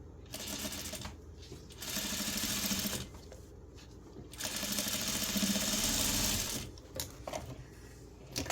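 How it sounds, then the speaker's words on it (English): A sewing machine stitches a quarter-inch seam on quilt scraps backed with Quilters Grid Pellon 820, running in two close, steady whirring bursts with a brief pause between them and no talking. "So now we're going to sew 1/4 inch down this side."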